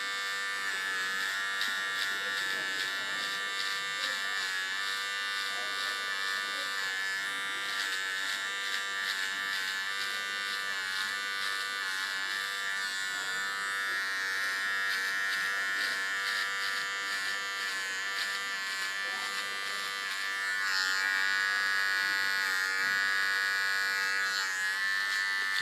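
An electric hair clipper buzzes steadily and close as it shaves the sides of a mohawk, a continuous high whirring drone that shifts slightly in tone as the blades move across the head, with no talking.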